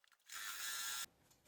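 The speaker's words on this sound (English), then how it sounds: "I'm going to sew a 1/4 inch seam across." Electric sewing machine running a quarter-inch seam across a quilt block, a steady mechanical whir about three-quarters of a second long that starts and stops abruptly, close and alone.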